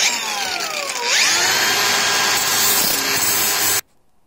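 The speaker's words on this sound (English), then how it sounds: "It's going to get modernized with the old grinder." A grinder works steadily on an old hand tool to smooth it, a rising whine settling into a loud continuous grinding hum that stops abruptly.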